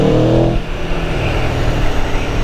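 A 2017 Aprilia Tuono V4 1100 motorcycle in race mode gives a loud, close throttle blip that fades into a rough, rumbling idle.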